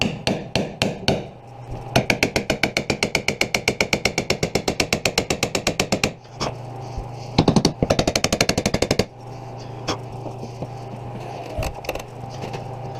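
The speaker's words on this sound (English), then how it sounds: "maybe a couple taps from a hammer will make it loose" A hammer strikes a stuck nut and liftgate button part on a 2009 Equinox, first as a few loose taps, then a long fast run of sharp metallic blows, another short burst, and scattered final knocks, all close and loud with no talk.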